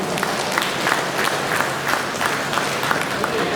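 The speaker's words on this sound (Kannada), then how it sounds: "ರೋಟರಿ ಚಂದ್ರಪ್ಪ ಸರ್ಕಲ್ನ ನೂತನ ಅಧ್ಯಕ್ಷರು ನರಸೇಗೌಡರಿಗೆ ದೊಡ್ಡ ಚಪ್ಪಾಳೆ ಮುಖಾಂತರ ಅಭಿನಂದಿಸೋಣ" Applause for a new Rotary club president at a branch inauguration: a crowd clapping steadily and densely throughout, fairly close, with no break.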